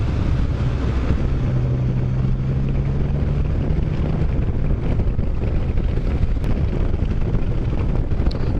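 Strong winter wind buffets the microphone while riding on an open road, a constant loud rumbling roar with a low engine drone underneath and no speech.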